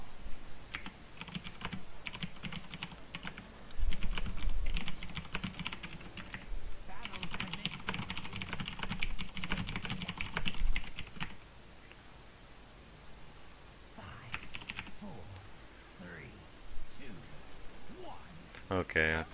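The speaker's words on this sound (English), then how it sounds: "I typed to the team there" Typing on a computer keyboard to send team chat during a Heroes of the Storm match, with quick bursts of close key clicks separated by pauses and game sounds murmuring underneath.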